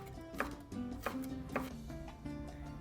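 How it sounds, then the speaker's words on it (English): A knife mincing a jalapeno on a cutting board, a few evenly spaced soft chops about half a second apart, close and quiet with no talking. "we're just gonna mince it"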